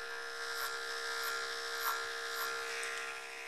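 Electric hair clipper fitted with a 1.5 blade cutting hair during a skin fade, a steady close buzz with small surges as it passes through the hair.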